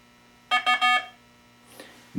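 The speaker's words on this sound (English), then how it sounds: "at the end of 30 seconds, the system will make a timeout sound, and then the system will clear itself for the next question" Quiz lockout system sounding its timeout signal: three quick electronic beeping tones in a row, fairly clear against a quiet hum, followed by a faint trailing tone and a short click at the end.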